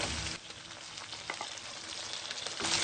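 Chicken pieces frying with browned onions in a pan for chicken jalfrezi, a steady moderate sizzle with stirring scrapes and a louder burst at the start and end.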